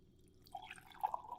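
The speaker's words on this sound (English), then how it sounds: "I will now pour the coffee" Black coffee brewed from Starbucks espresso beans poured from a French press into a mug, a faint, short trickle of liquid with a few soft drip-like splashes, recorded close up.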